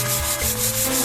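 Steady scratchy rubbing of 600 grit sandpaper being worked by hand across a surface to flatten small raised bits, continuous and close with a slight rhythmic push-pull.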